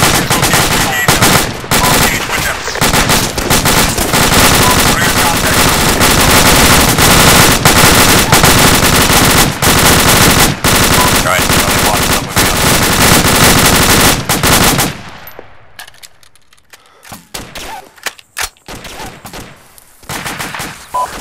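Sustained, loud bursts of machine gun fire ring out in the video game Arma, a dense rattling barrage lasting around fifteen seconds before trailing off into scattered, sparser shots with quieter gaps.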